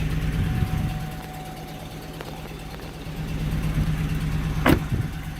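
A 2007 Pontiac Vanderbilt with a slight engine misfire idles nearby, giving a steady low hum and rumble with an uneven pulse, broken near the end by a brief sharp rattle.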